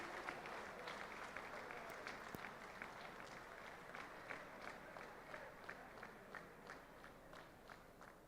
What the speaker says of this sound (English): Big round of applause, gentlemen